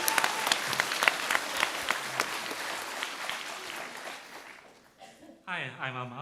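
An audience at a convention Q&A panel breaks into loud applause that fades out after about five seconds, followed by a voice speaking into a microphone.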